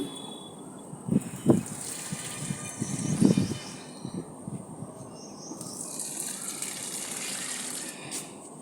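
Water pours from a container onto potted plants in a home setting, a steady close splashing gush with a few stronger surges and no voices.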